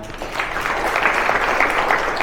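An audience at a community felicitation event of the Namdev Shimpi Daiva Mandal in Kasba Peth claps in a dense, continuous wash of applause that stays loud and even throughout, with no voices over it.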